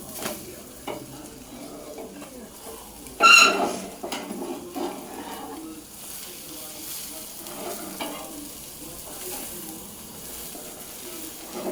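A bread omelette fries in a pan with a soft steady sizzle, one louder clatter of utensil on pan early on, and quiet scraping and stirring afterward, close but low in level.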